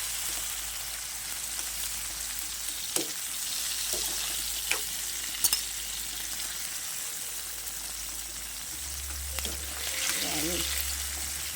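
Tomato, garlic and onion fry in a pan with dried fish for kinamatisang tuyo, giving a steady crackling sizzle with occasional soft utensil clicks and a low background hum.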